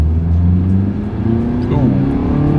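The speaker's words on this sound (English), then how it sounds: "let's see how quickly we can get our new 2024 Mitsubishi Outlander Sport here up to speed" A 2024 Mitsubishi Outlander Sport accelerating hard from a standstill on a straightaway, with a loud, steady engine drone whose pitch climbs through the run. The engine noise stays continuous and close throughout.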